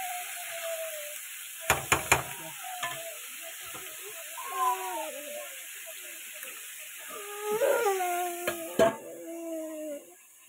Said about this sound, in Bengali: ঢেকে ঢেকে একটু ভাজা করে নেবে ভালো করে।